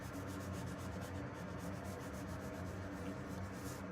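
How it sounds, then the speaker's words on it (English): A cloth buffs dried gilding wax on a wooden furniture piece, making soft, steady rhythmic rubbing strokes that are faint and close up. "when I buff the wax, I let it dry, and I'm kind of buffing it out and letting the shine come through"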